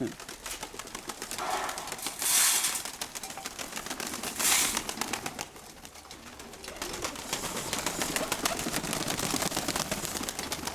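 Pigeons and young squabs coo around a feeder built from metal profile, soft repeated cooing layered over rustling and pecking, fairly close, with quiet voices now and then.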